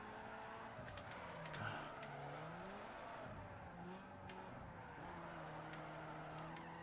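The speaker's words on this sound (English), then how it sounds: "got to drift it" A car drifts in Need For Speed Underground 2, its engine droning and shifting in pitch under a continuous tire squeal, steady and fairly quiet with no talk.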